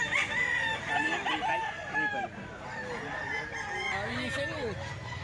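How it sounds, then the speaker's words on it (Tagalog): Roosters crow and hens cluck all around a poultry seller's stall, several overlapping calls rising and falling over a steady barnyard din, fairly close, with a murmur of voices beneath. "Ito yung mga manok niya mga bossing"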